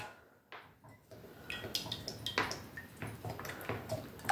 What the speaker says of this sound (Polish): w garnku nalewamy olej do smażenia